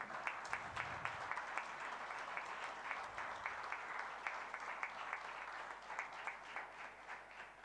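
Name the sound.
loud applause from an audience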